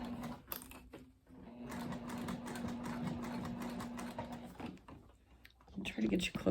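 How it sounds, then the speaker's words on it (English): A sewing machine stitches a cork backpack in a rapid mechanical rattle with a steady tone, running for several seconds, then slowing and stopping before a brief clatter of handling close by. "I'm going to go over from my basting stitches and just start slowly stitching in"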